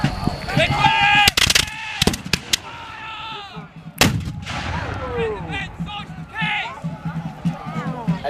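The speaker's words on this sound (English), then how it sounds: "At this range, the artillery would be firing what's called break shots." Artillery cannon firing at a Revolutionary War demonstration: two loud, sharp blasts about three seconds apart, each with a ringing tail, while people talk nearby before and between the shots.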